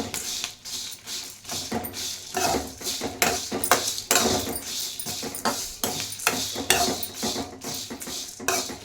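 Curry leaves roasting and being stirred in a pan for homemade sambar powder, with steady scraping, tapping and rattling of a utensil against the pan in an irregular, continuous rhythm, close up and without talk.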